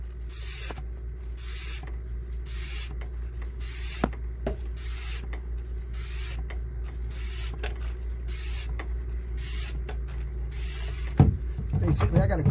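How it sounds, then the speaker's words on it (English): Hand-operated vacuum pump drawing oil up a tube from a Mercruiser 5.7 EFI marine boat engine, steady rhythmic pumping strokes with gurgling suction, close and moderately loud. "Basically, I got a good vacuum on this, and she's pulling the oil up. You can hear it go in there."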